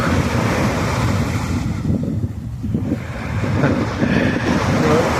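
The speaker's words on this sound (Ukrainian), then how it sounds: "Розмірений отаке накат хвиль на берег з шумом. Розбивається обріг." Waves roll and wash onto the shore with a broad, hissing surge, fading briefly and then building again, mixed with some wind buffeting.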